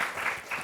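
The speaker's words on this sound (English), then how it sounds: "can we give our contestants a round of applause" Brief round of audience applause for game show contestants, a short burst of many hands clapping at moderate distance, fairly quiet.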